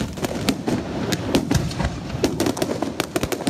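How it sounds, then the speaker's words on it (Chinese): Loud fireworks at a midnight temple procession, a dense barrage of sharp cracks and pops over a continuous rumbling bed, close and relentless throughout. "烟火嘛放甲正大声"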